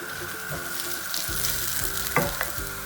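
Onions sautéing in a pan with salt, a steady close sizzle with a few sharp stirring scrapes near the end and a constant background hum.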